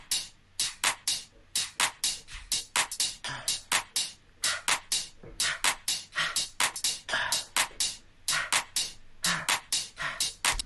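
A drum loop with a breath sample layered on the upbeats: crisp hi-hat and snare hits in a steady, busy groove, with breathy airy bursts woven between them, moderately loud and without talk.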